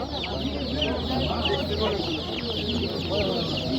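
Chicks and chickens crowd a poultry market in G'ijduvon, with dense high peeping and clucking that carries on steadily and fairly close throughout, and a few faint voices mixed in.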